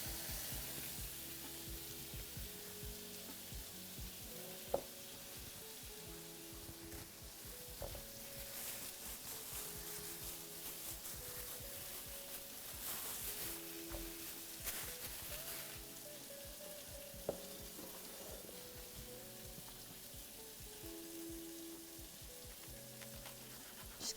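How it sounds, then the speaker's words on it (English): Chicken leg frying skin-side down in pork fat over medium heat, a steady close sizzle with crackling pops and occasional sharper spits, continuous throughout without talk. "Should get a nice sizzle when you drop it in."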